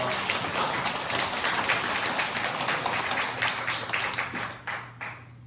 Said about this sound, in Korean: 찬양의 박수 올려드립니다